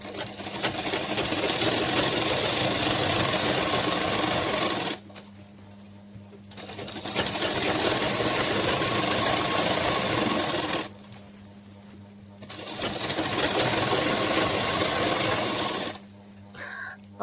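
A sewing machine stitches a kali petticoat in three long, steady whirring runs of about four to five seconds each, separated by brief quiet pauses, and sounds close and loud.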